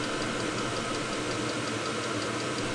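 A VEVOR Chinese diesel heater runs with a steady, broadband mechanical drone and faint rhythmic knocking, moderately loud and unchanging throughout, with no voices.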